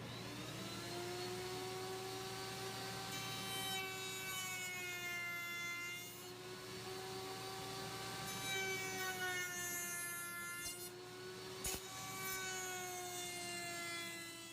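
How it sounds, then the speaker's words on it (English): A router works over wooden seat slats for a custom park bench, a steady, sustained whine with shifting tonal harmonics that carries on unbroken and fairly quiet throughout. "now I'm going to router over the seat slats"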